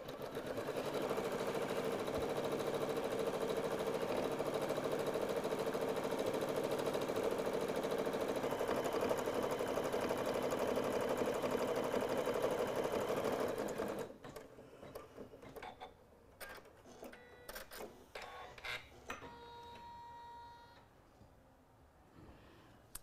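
A sewing machine stitches an appliqué Christmas ornament with a fairly quiet, even motor whir for about fourteen seconds, then stops, leaving scattered small clicks and handling noises.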